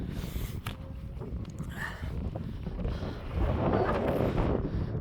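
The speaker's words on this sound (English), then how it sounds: "Windy, I know" Wind gusts buffet the microphone on an exposed hilltop at an ancient site among stone circles and barrows, a rough low rumble that swells and eases, growing stronger toward the end, with no voices.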